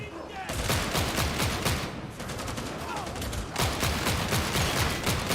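Rapid automatic gunfire from a Dreg Gunner enemy in the video game Darktide, dense continuous bursts with brief pauses, loud and close, with voices talking faintly in the background.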